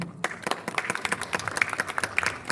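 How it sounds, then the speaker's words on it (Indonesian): An audience applauds with a dense, steady patter of claps that holds evenly throughout, fairly close and not overlaid by talk. "Beri tepuk tangan."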